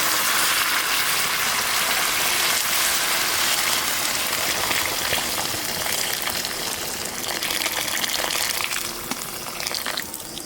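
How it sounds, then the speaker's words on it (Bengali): Hot water pours into sizzling mutton curry in a pan, a loud continuous hissing gush and bubbling crackle sustained throughout, close up with no voices. "এখন গরম জল দিয়ে দেবো।"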